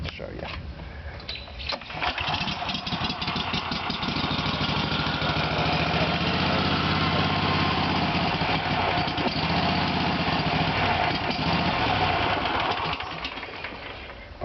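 A Toro T-bar 48-inch fixed-deck riding mower's engine kicks into life after a couple of seconds and runs at a steady, loud idle before tailing off at the end, with someone talking over it.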